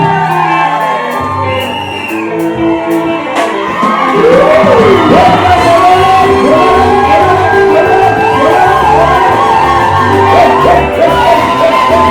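Guests at a white wedding cheer and shout over loud music, with whoops and yells rising from the crowd and staying strong and close throughout.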